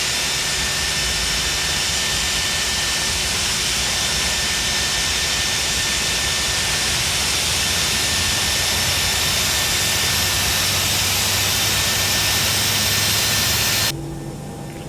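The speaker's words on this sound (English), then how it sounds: "Start engine number 1." Engine number 1 of a ToLiss A319 airliner spools up during a start in X-Plane 11, a loud, steady broadband jet roar with a high whine that runs continuously before dropping off sharply at the end.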